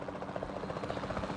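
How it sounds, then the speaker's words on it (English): A capture team helicopter from Jurassic World Evolution 2 drones with a rapid, rhythmic rotor thump and engine buzz, steady and fairly close, with no talking. "Then the sensible thing is to take a capture team helicopter."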